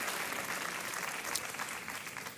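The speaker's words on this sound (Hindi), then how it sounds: "आप तालियों के साथ इनका एक बार फिर अभिनंदन।" A studio audience applauds on a television quiz show, dense and continuous clapping that stays loud and steady throughout without a break.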